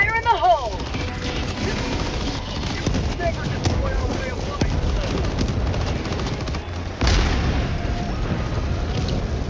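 A grenade blast in Helldivers 2 during a fight against terminators, one heavy boom landing about two-thirds of the way through amid dense ongoing gunfire and battle noise, with players talking over the chaos.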